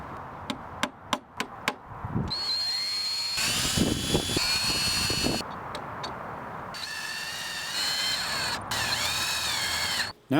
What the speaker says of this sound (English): I use a nail to make my markings for my hinge and pre-drill the holes